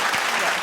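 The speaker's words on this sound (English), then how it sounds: "Can I get a sound of applause?" A brief burst of crowd applause plays as a sound effect, a short wash of clapping that lasts under a second.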